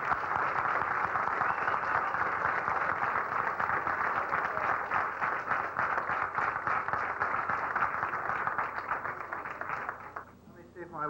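Audience applause for award recipients at a 1991 celebrity gala, a steady dense wash of many hands clapping that holds for about ten seconds before tapering off near the end.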